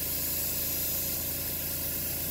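A spray gun lightly hazes paint onto a Suzuki Intruder motorcycle part, giving a steady, even hiss that stays constant and fairly soft throughout.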